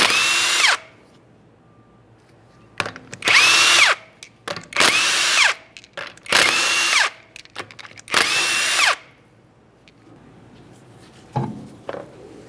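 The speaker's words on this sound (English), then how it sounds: "continue on to removing all 5 of your 19mm lug nuts and we can get the wheel off of here" A power tool loosens the 19mm lug nuts on a 2013-2020 Ford Fusion wheel, sounding in several loud, close bursts of a few seconds each, separated by quiet pauses and faint handling clatter.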